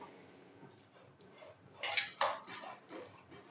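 Pizza wrap filling is stirred in a bowl, with a few soft scraping and clinking strokes of a utensil against the dish that briefly grow louder in the middle, heard close by without speech.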